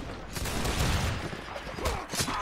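Rifle fire in a battle video game comes as a dense, continuous fusillade of overlapping shots, loud and close, with a broad noisy roar and no clear gaps between reports.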